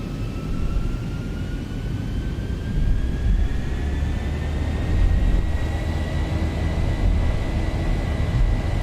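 Simulated Boeing 737-800 engines in X-Plane 11 spooling up to takeoff power: a steady, loud roar with rising whining tones that climb slowly in pitch, continuous throughout with no talk.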